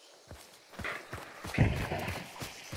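An enemy runs in a first-person video game, a quick, fairly close patter of footfalls in an uneven rhythm, without speech.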